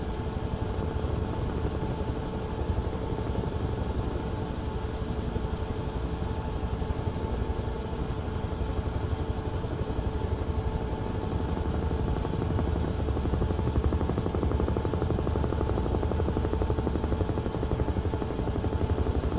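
A propeller aircraft engine throttles up for takeoff in Microsoft Flight Simulator, a steady loud droning hum with a constant tonal whine that holds for the whole stretch with no voices.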